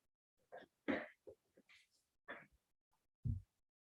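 A single sneeze breaks out during a special public meeting held over a screen-share call, with scattered short bursts of other vocal sounds before it; the sneeze lands near the end as a sharp, low, close burst.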